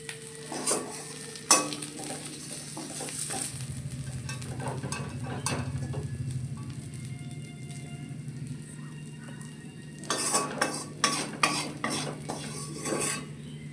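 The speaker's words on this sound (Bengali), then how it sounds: "এই মাছ ভাজাটা আমার হয়ে গেছে আমি নামিয়ে দিচ্ছি" Rohu fish frying in a pan, a continuous close sizzle with scraping and clinks of a spatula and metal utensils as the pieces are lifted out.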